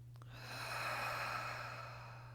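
A single slow, deep inhale through the nose during a guided meditation, swelling softly and then tapering over a couple of seconds, close and quiet with a faint steady hum beneath and no speech.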